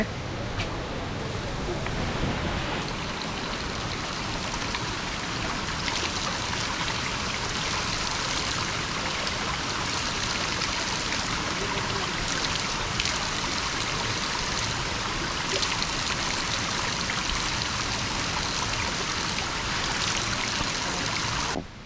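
Urakkuzhi waterfall near Kakkayam Dam gives a constant, loud, broadband rush of falling water that fills the whole stretch without letting up.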